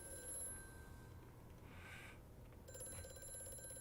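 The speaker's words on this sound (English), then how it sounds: "I hear a phone." A telephone rings faintly in the distance in the video game Amnesia: A Machine for Pigs, a thin, quiet ring heard alone against a low ambient hum.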